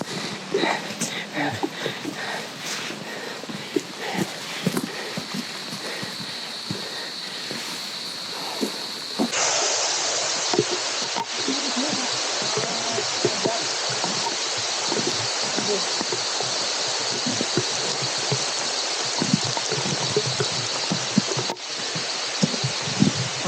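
Heavy rain on a mountain savanna, a dense steady hiss that thickens partway through and stays loud and continuous, with people talking now and then over it.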